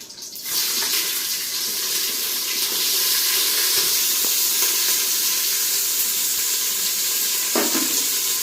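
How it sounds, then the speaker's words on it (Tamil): Onions sizzle loudly in hot oil in a pan for mushroom biryani, a steady broadband frying hiss starting after a brief quiet moment, with a short stir or clink near the end. "இப்போ வெங்காயம் போட போகிறேன்"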